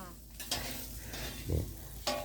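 A fried oyster omelette cooking in a pan at a charity food stall, heard as steady close sizzling with a few scrapes and knocks of a utensil against the pan.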